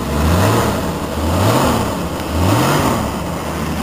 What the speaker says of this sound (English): I'll try revving it some.